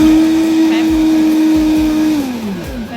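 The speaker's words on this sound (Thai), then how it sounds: "ใส่แค่สองอย่างนี้เลยนี่จะไปปั่นแบบนี้เลยค่ะ" A kitchen blender whirs loudly and steadily, blending germinated brown rice milk with banana for a coffee drink, then the motor pitch drops as it winds down near the end.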